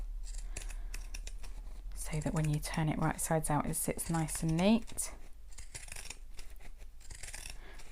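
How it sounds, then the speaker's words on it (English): Pinking shears snip repeatedly around a curved fabric edge, crisp rhythmic cutting clicks heard close, with someone speaking over the middle of the cuts. "We're just going to trim around this curve with our pinking shears."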